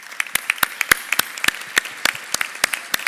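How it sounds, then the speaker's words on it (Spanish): An audience at a fintech forum in Argentina claps, a brisk, fairly close run of separate hand claps in an uneven rhythm that holds steady for a few seconds without voices. "les pido a todos un fuerte aplauso para Ale"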